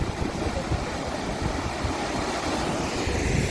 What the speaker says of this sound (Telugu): సరస్వతి నది ఫ్లో ఎంత ఉందో